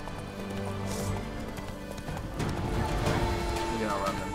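Roach the horse galloping in The Witcher 3: Blood and Wine, with a steady rapid clip-clop of hooves, a brief whinny, and a voice talking over the running.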